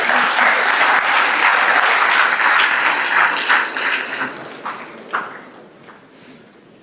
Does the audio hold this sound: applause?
yes